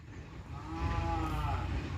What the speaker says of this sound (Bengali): আর ওখান থেকে গরু ডাকছে হাম্বা